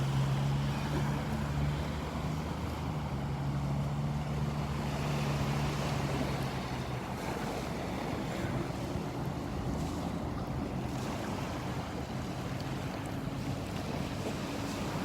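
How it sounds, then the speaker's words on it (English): A parasail boat's engine hums at a distance over wind and surf off a beach, slowly fading as it moves away across the water. "One of our parasail boats heading out."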